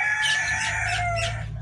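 Silkie bantam chickens cluck and warble close by in a short burst of a few rising and falling calls, with no talking over them.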